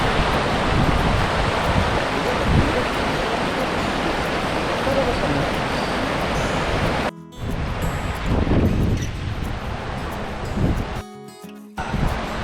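A steady, loud rushing roar of a mountain river in Ladakh mixed with wind buffeting, briefly cutting out twice before resuming.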